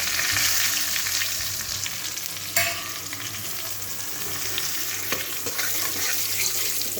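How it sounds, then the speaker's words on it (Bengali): Cumin, whole garam masala and bay leaf sizzle steadily in hot oil, a close, continuous crackling hiss with a brief sharper pop partway through. "এই গরম তেলের মধ্যেই আমি এখন ফোড়ন দিয়ে দেবো। এখানে জিরে আর গোটা গরম মশলা, তেজপাতা।"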